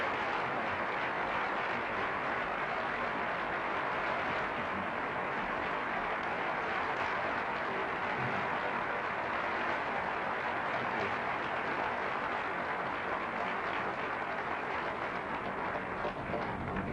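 Sustained, dense applause from a large crowd, a continuous roar of clapping that holds steady at even loudness with no talking.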